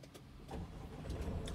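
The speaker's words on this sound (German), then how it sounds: "startet das Auto wie gewollt" A rental van's engine starts remotely from a phone app, giving a brief, faint low rumble as it turns over and settles into a quiet idle.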